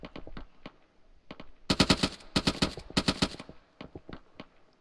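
Rapid bursts of machine gun fire in a military video game, loud and close, coming in several rattling volleys after a few scattered earlier shots.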